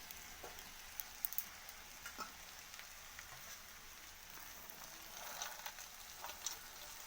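Egg and mixed vegetables sizzling in a pan for homemade egg chowmein, a steady soft crackle and hiss with faint scattered pops, fairly quiet and continuous throughout.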